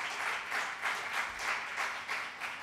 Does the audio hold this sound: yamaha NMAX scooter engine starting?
no